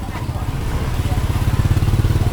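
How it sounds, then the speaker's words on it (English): A motorbike engine at a rural Thai market buzzes loudly and close, its pulsing drone rising as it passes, with market chatter and voices mixed underneath. "you got to be careful of these motorbikes."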